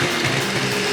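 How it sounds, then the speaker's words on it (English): An electric mixer whirs steadily through a brief one-second stretch as it mixes custard powder, with a dense and continuous motor hum and no talking. "And please use a mixer, not a whisk."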